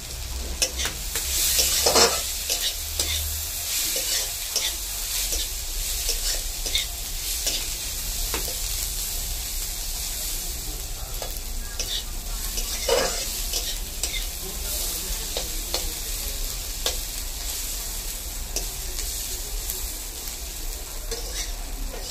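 Thin strips of bottle gourd peel sizzle steadily in hot oil throughout, with occasional stirring scrapes in the pan and no talking.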